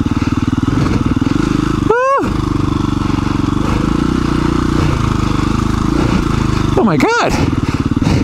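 Dual-sport dirt bike engine chugging and revving as it climbs over loose rocks on a trail, loud and close throughout, with a rider speaking over it and short rising throttle blips.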